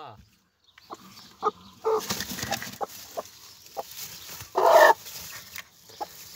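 A broody hen sitting on newly hatched chicks gives soft, scattered clucks, fairly quiet and close, mixed with small rustles and a few louder bursts.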